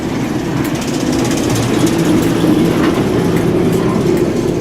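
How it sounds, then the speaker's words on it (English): Class 08 shunter locomotive hauling a long rake of old wagons, a steady, loud diesel rumble with continuous rolling rail noise and faint creaks, close by and unbroken. "Look how many wagons it's pulling."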